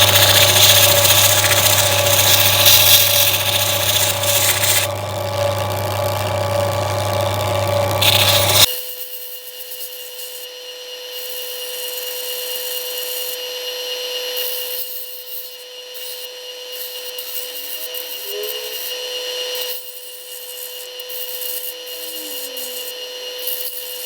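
A lapidary wheel fitted with a brown 600-grit pad grinds the edge of a piece of boulder opal: a loud, steady machine whir and rasp that drops abruptly to a quieter hum with light scraping contact.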